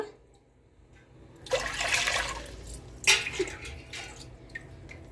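Water poured from a glass into a cooking pot on the stove while making steamed dumplings, a steady splashing gush lasting a few seconds, close and fairly loud, with a second splash partway through.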